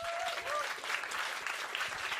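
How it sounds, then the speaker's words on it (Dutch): Audience applause for poet Emily Wieland at a live show, dense clapping filling the short moment at an even, fairly strong level. "Applaus voor haar."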